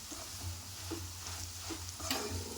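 Gram flour and salt being stirred through ivy gourd fry in a pan, a low steady sizzle under soft periodic scrapes of the spoon, close and fairly quiet with no talking.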